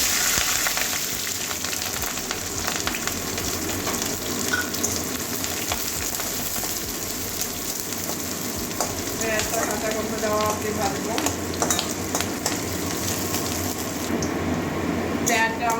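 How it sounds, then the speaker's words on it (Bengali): Continuous crackling sizzle of green chilli and chopped onion frying in a hot pan, steady and close, with brief talk heard over it. "এবারে কাঁচা লঙ্কা পেঁয়াজ কুচি দিয়ে দিচ্ছি"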